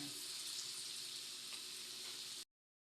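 Onion and garlic sauté in a pan of oil and margarine, giving a steady, bright sizzle that runs evenly for about two and a half seconds before cutting off abruptly.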